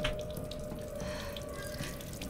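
A water tap left running in the video game Resident Evil Village: a steady, continuous gush of faucet water close by, with no talking.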